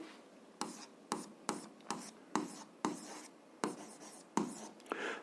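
A pen or chalk writing out a maths solution, with about ten short scratchy strokes in an irregular rhythm, close and quiet, with no talk over them.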